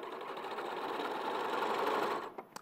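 Sewing machine runs steadily, stitching a row of shirring elastic with a fast, even mechanical whir that stops abruptly near the end.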